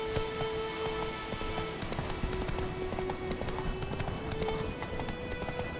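A horse gallops in the video game The Witcher 3, its hooves beating a quick, steady clip-clop rhythm over a rain-like patter of ambient noise, with a faint voice briefly present.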